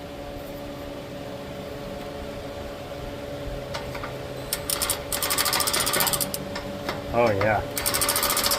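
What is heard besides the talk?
power wrench used on a catalytic converter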